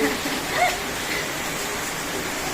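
Heavy rain from Cyclone Amphan pours down as a steady, dense hiss that fills the short stretch evenly, with no clear voices over it.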